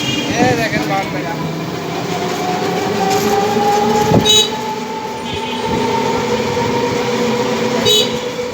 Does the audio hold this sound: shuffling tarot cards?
no